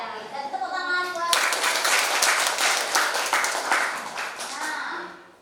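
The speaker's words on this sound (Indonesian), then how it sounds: "Dan tepuk tangan buat." Classroom applause bursts out after a short stretch of talk and keeps going for several seconds, dense clapping from a group of students, fading slightly at the end.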